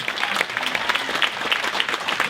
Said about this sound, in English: Hey, everybody, give yourselves a round of applause